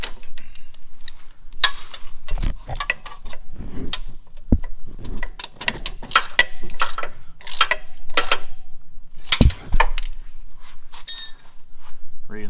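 A ratchet torques the motor bolts on a Trackchair AXIS, giving close, crisp clicking bursts in irregular runs, with clanks of metal between them.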